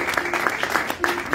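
Church congregation clapping and applauding to acclaim the Lord, a short burst of rhythmic hand claps with crowd voices mixed in, moderately loud and fairly close.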